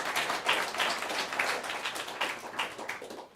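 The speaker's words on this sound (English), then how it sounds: "You got to give her a round of applause." An audience at a design talk breaks into applause, a thick continuous crowd of clapping heard up close and sustained throughout before tapering at the end.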